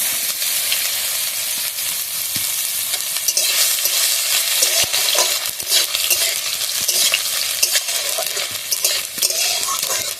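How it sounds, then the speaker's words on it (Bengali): Chopped ginger fries with dry red chillies and five-spice seeds in hot oil for a singara filling, a steady loud sizzle with occasional stirring scrapes running throughout. "আদাটা ভালোভাবে লাল লাল করে ভেজে নেব"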